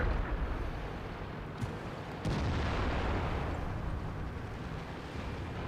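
Tank gunfire in the video game World of Tanks sounds as a dense, continuous roar of cannon blasts, with sharper booms standing out briefly, loud and unbroken throughout.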